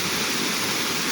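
Waterfall off a trail pouring steadily in low water, a dense, loud, unbroken rush of water close by, with no voices.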